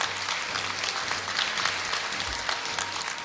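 Audience applause at a Korea University degree-conferral ceremony in a large hall, a steady dense wash of clapping from many hands, moderately distant and sustained without pauses.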